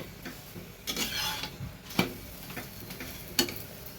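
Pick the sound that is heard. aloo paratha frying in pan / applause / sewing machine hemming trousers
aloo paratha frying in pan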